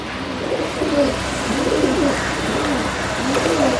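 High-flying pigeons of an old bloodline coo in a loft, several soft, repeated throaty coos rising and falling close by over a steady background hum, with no talking.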